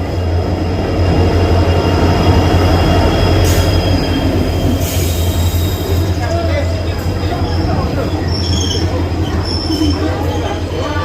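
A train arriving at a station rumbles and clatters loudly and steadily, with metallic wheel squeals cutting through and voices murmuring in the background.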